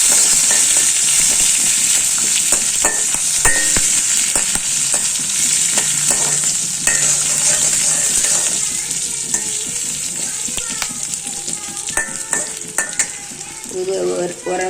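Garlic, ginger, tamarind and green chili frying in a hot pan, a loud continuous sizzle with repeated stirring scrapes and clicks of a spatula, no voices.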